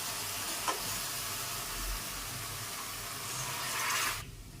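Carrot and moong dal curry sizzles steadily in a pan while being stirred, a continuous close frying hiss that swells slightly before cutting off abruptly at the end.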